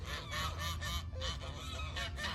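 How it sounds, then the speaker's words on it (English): Canada geese honk repeatedly and loudly in a rapid, overlapping series near Niagara Falls, with harsh nasal calls coming in quick bursts close by. "I think the Canada geese are trespassing on their plot of land."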